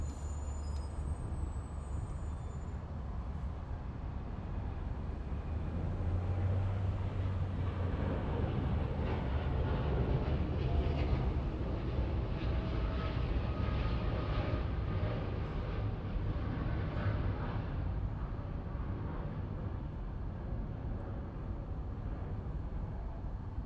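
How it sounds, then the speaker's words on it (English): A United Boeing 787 Dreamliner takes off at Los Angeles International Airport, a sustained, fairly distant jet roar and low rumble that swells slightly in the middle and holds steady throughout. "We have a United Dreamliner taking off over here."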